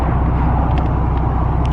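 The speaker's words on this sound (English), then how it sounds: "There's like hella cars coming." Cars pass on a hot Las Vegas street with a steady, loud low road rumble and engine drone, with no talking.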